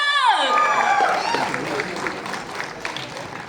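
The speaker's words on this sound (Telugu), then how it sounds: "గట్టిగా ఒక్కసారి క్లాప్స్" An audience at a film teaser event breaks into loud, sustained clapping that goes on steadily after a descending musical swoosh and a voice at the start.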